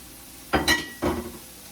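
Meat for a western omelet fries in a pan as a spatula pushes it around in two short scraping strokes over a faint sizzle, close by with a light metallic clink.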